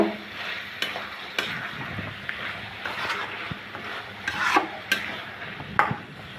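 A spoon stirs a dried fish and eggplant curry with chopped coriander leaves in a pan, making repeated scraping strokes over a soft sizzle, with sharp clicks every second or so.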